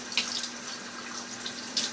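Hot water running steadily from a tap into a sink, a continuous faint hiss with a few brief splashy bursts near the start and end, heard alone.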